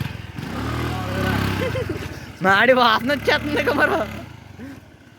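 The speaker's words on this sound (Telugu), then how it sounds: "చూడండి స్కూటీ మేము బర్నౌట్." Scooter engine held at high revs during a burnout, a steady low drone running under loud, excited talk throughout.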